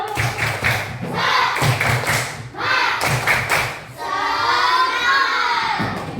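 Schoolchildren in a classroom doing the tepuk semangat clapping routine, rhythmic group claps and thumps in quick patterned bursts, then shouting together near the end.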